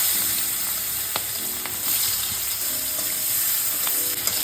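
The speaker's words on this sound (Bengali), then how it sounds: "পেঁয়াজের সঙ্গে কোচানোটা ভেজে নিচ্ছি।" Nigella seeds and chopped onion fry in hot oil in a home kitchen pan. The steady close sizzle runs throughout, broken by a few sharp clicks and scrapes of stirring.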